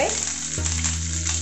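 Curry leaves hit hot oil with red chilies for South Indian sambar, a close, loud, continuous crackling sizzle that flares sharply as they drop in, with no talk.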